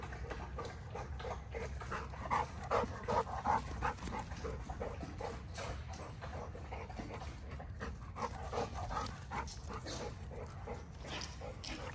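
An American Bully dog pants rapidly and steadily close by, with occasional whimpers and small yips mixed in.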